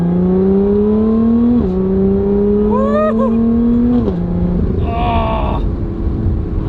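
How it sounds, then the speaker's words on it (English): Lotus Evora GT engine pulling hard from inside the cabin, a loud steady drone climbing in pitch and dropping at each upshift, with a sharp crack on the shift. "Just the freaking crack on shift and it's just alive."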